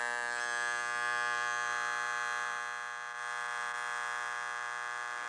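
A Wahl hair clipper from 1992, its power screw turned clockwise, gives a loud, steady, close electric buzz with a harsh rattling edge that holds for the whole stretch and dips slightly once midway.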